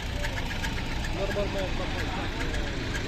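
A DFSK double-cab pickup truck's 1.3-litre engine running on LPG idles with a steady, deep rumble and faint knocking, continuous throughout, while someone talks over it.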